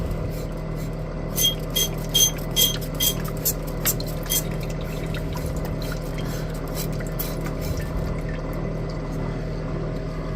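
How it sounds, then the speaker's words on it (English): Liquid from gold recovery of RAM chips poured into a smaller glass beaker, a close, soft run of trickling splashes and clinks over a steady low background hum, with no voices. "we're going to go ahead and transfer this to a smaller beaker yet"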